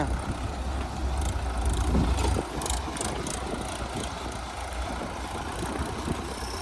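Tractor engine running in a farm field, a steady low diesel rumble with rattling that swells briefly around two seconds before settling back to a constant throb; no talking.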